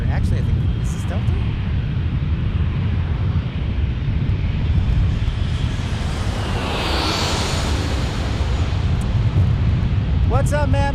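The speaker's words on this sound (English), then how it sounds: "E175 for Alaska, or actually I think this is Delta?" An Embraer E175 jet airliner roars steadily at an airport in San Diego, a loud, broad rumble with wind buffeting the microphone throughout, and a brief voice comes in near the end.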